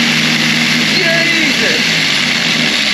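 A plastic drill bit sharpener driven by a grinder runs at a loud, steady whine with a constant high-pitched hum and brief scraping chatter, close to the microphone.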